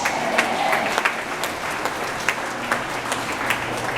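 A church congregation at an El Shaddai gathering breaks into sustained applause, dense clapping that continues steadily from start to finish with no voices over it.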